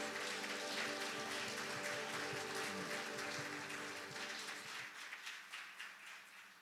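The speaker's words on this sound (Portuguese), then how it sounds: "Você pode servir ao Senhor com um aplauso em gratidão a Deus?" A church congregation applauds during an evening worship service, a dense, steady wash of clapping that holds loud and even, then thins and turns more scattered in the last couple of seconds.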